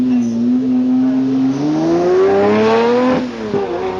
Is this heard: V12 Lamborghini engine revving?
yes